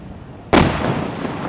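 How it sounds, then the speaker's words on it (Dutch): Bomb disposal troops set off a sea mine found in the Veerse Meer lake in Zeeland, producing one sharp, loud detonation boom followed by a long roaring rumble that slowly fades. "De laatste van in totaal 3 kustmijnen die in het Veersemeer zijn gevonden zijn vanmiddag tot ontploffing gebracht door de EOD."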